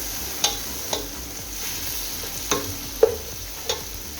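Chopped capsicum sizzles quietly in a pan as a spatula stirs it, with several distinct scraping knocks spaced irregularly over a steady low frying hiss.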